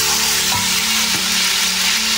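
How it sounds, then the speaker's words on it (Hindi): Green chillies, garam masala and ginger-garlic paste frying in a pan for chana dal, a steady close sizzle with a couple of soft stirring knocks. "हरी मिर्ची और गरम मसाला साथ डाल देंगे, और साथ ही में डालेंगे अदरक लहसुन का पेस्ट"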